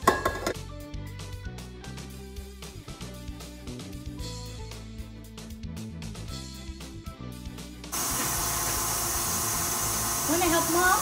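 An electric mixer beating condensed milk buttercream: after several seconds of other sound, a loud, steady whir kicks in abruptly and keeps running to the end, growing slightly louder.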